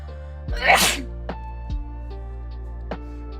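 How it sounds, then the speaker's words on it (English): A single loud, sharp sneeze bursts out close to the microphone, followed by a few faint clicks in a quiet room. "Oh, I gotta sneeze."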